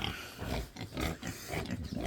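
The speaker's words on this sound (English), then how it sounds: "We got our 2 pigs" Two pigs on a farm grunting and oinking in quick, irregular bursts, close and moderately loud, with no talk over them.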